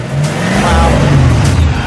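A 2021 Blue Thunder Coupe's engine revs loud and close, with a deep rumble that swells and eases in a steady surge throughout.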